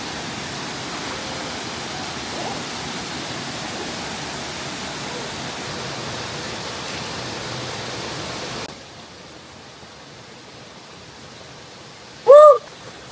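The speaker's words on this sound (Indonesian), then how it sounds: "Segaran air dari air terjun di dalam gua ini" Steady broadband rush of the Riam Kuweg waterfall pouring inside a cave in Bengkayang, West Kalimantan, a constant hiss that drops suddenly to a quieter wash, followed by a brief chirp near the end.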